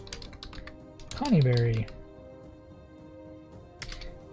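Quick bursts of clicky computer keyboard typing, near and crisp, with a short spoken word in the middle and another few keystrokes near the end.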